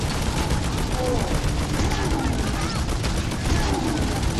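Rapid, dense gunfire from the video game Necromunda: Hired Gun, continuous bursts of automatic shots filling the whole moment, loud and close, with a voice partly beneath.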